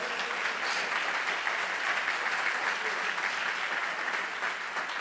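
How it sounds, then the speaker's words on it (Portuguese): A church congregation applauds steadily and continuously throughout, a dense, even wash of clapping with no clear pauses. "Vamos aplaudir a Jesus por isso."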